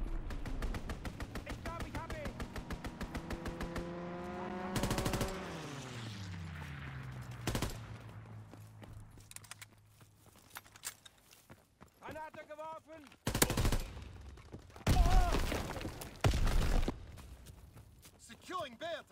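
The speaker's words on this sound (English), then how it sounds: "Fighter pilot inbound. Strafing the target." Machine-gun bursts from a strafing fighter plane in the Call of Duty WWII video game, loud rapid rattling fire with sharp blasts, layered over game announcer voice lines.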